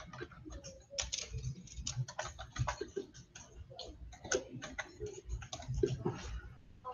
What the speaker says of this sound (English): I am having trouble typing.